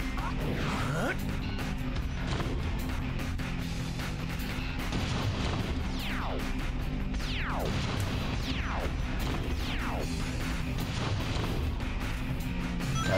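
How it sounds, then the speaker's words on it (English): Bombs drop and explode in Shadow the Hedgehog. Repeated loud blasts and crashes sound over continuous game noise and music, with falling whistles before several of the hits. "they're just dropping bombs on me now"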